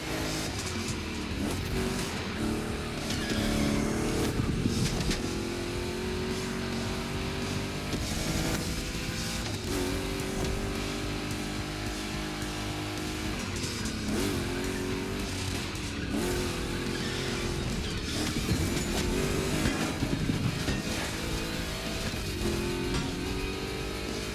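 Two Chevrolet big-block cars race in The Crew Motorfest, and their engines roar and rev hard the whole time. Tires squeal through corners and the gears shift, with a dense, loud, continuous mechanical din and no voices.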